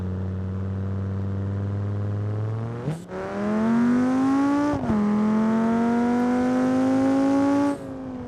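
A high-revving race car version of the FCV in the video game BeamNG.drive whines upward, drops briefly at gear shifts, then climbs again, loud and close with no talk.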